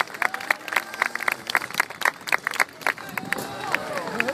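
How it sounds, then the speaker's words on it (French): A crowd claps and cheers at an outdoor freestyle motocross show in Pecquencourt, with dense rhythmic applause that holds steady throughout. "Allez, on tape dans les mains."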